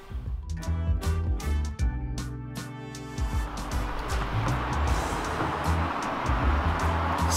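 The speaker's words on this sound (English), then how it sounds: "so much traffic noise today." Road traffic rumbles nearby as a vehicle passes, a low engine drone blending into a steady wash of noise.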